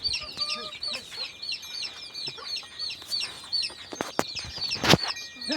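Country chickens of mixed colours cluck steadily in a backyard flock, with repeated overlapping clucks and calls at moderate distance and a few sharper bird calls, without any talk.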